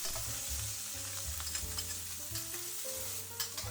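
Chopped scallions with ginger and garlic stir-frying in hot oil over medium heat, a steady loud sizzle with scraping and stirring clatter from a wok or pan running throughout, no voices.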